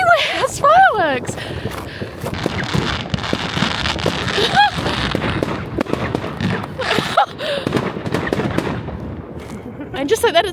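New Year's fireworks in Germany pop and crackle continuously, with whistling rockets and sharp bursts, while people chatter and call out close by.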